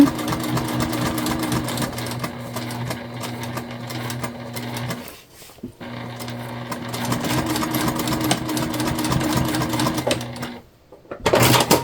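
A sewing machine runs steadily stitching a leopard-print tote bag together, loud and continuous with a brief pause near the middle and another near the end.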